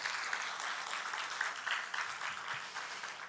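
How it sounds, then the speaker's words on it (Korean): A church congregation claps in encouragement during a worship service, a steady moderately distant patter of many hands lasting a few seconds. "우리 같이 또 격려의 박수 하십시다."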